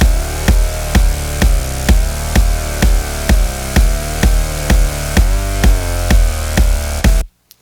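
An EDM kick drum thumps in a steady four-on-the-floor pulse while a sustained synthesizer bass chord plays continuously over it with no sidechain ducking, the two colliding into a loud, muddy low end before stopping abruptly.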